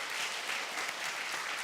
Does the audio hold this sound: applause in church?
yes